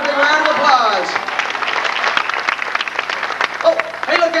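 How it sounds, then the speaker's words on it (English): An audience at a Walt Disney World show applauds with scattered, lively clapping while people talk and call out over it. "Give her a big round of applause."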